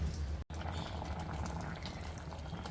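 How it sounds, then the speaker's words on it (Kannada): Mango saaru bubbling and simmering in a cooking pot, a steady, close, continuous bubbling hiss with a brief dropout near the start. "ನೋಡಿ, ಚೆನ್ನಾಗಿ ಬೇಯ್ತಾ ಇದೆ."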